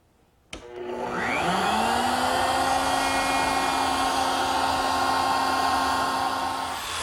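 Router fitted with an ogee bit easing the bottom corner of a wooden base-trim edge for a CD storage case; the motor starts with a sharp attack, whines up to speed and holds a steady, loud, close drone to the end.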